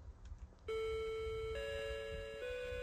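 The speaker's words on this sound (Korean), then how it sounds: "아, 이걸 누르니까 종소리가 나는구나." After a button is pressed in the Korean horror game The Coma: Cutting Class, a bell rings out, a sustained clear chime tone that shifts pitch partway through, loud over a faint low background rumble.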